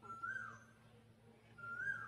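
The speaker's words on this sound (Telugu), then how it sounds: "ఇలా చెట్ల పైన ఈ కోకిల పిట్టలు ఇలా అరుస్తూ ఉంటే చాలా బాగుంది." An Asian koel calling from a neem tree beside a house, two faint, rising whistled notes spaced apart over a low background hum, heard at a distance.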